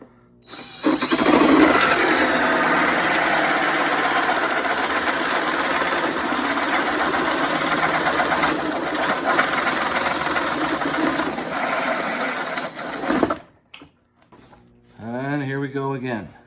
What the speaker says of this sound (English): the outside of this hole will keep the Forstner bit in place as I cut the hole